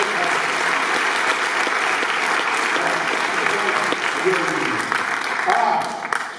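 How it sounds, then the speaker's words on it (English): A round of applause from an audience at an education commissioner's talk, a steady dense wash of clapping that holds loud for the full stretch, with faint voices mixed in near the end. "just give me a round of applause."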